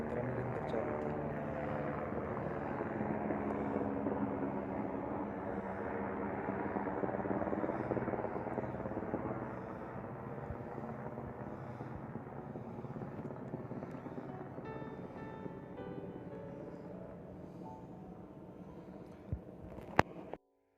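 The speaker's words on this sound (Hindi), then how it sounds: "चढ़ाई चढ़ते समय बार बार हेलीकॉप्टर आ जा रहे थे, क्योंकि चार धाम यात्रा निरंतर चालू थी।" Helicopter flying over a mountain trail near Deoria Tal in Rudraprayag, Uttarakhand, during the Char Dham Yatra, a steady rotor drone holding for most of the clip, louder early then easing as it passes, with no talk.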